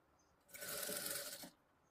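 A sewing machine runs for about one second, stitching along a fabric edge in a single steady whirring burst that is close and clear, with quiet room tone before and after.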